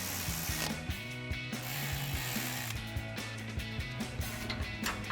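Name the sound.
ratchet tightening Jeep brake line connections with 10mm socket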